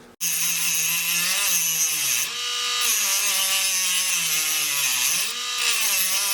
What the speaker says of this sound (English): always trust your Dremel, because that was about 30 seconds of work and it already cut a decent sized gash in it